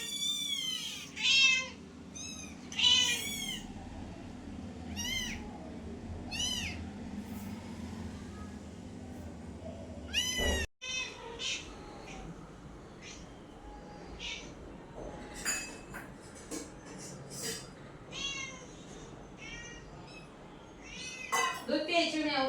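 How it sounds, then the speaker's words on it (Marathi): A hungry cat meows repeatedly for milk, a series of close, clear, rising cries spread across the scene, with a voice talking between and under them and a sharp knock midway. "दूध प्यायची म्याऊला."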